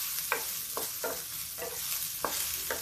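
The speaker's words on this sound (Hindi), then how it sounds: "अभी मेरा प्याज भून रहा है" Onions frying in a pan for dhaba-style dal tadka, a steady hiss with spatula strokes that scrape at a regular pace, close by and alone.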